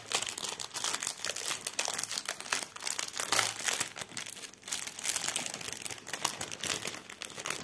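A plastic packet of diamond painting drills crinkles and rustles steadily as it is opened and handled by hand. The crackling is close and continuous, with a few louder crunches and no talking.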